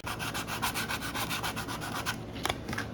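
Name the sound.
sanding plastic body with sanding block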